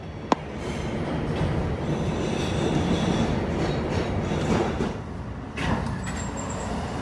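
New York subway 4 train running between stations toward Woodlawn, a loud continuous rumble with rattling car noise and clatter, a sharp click early and a brief faint wheel squeal near the end.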